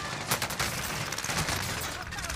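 Gunfire in a shooter video game, a dense spread of rapid shots crackling continuously under a busy mix, with a voice faintly present in the background.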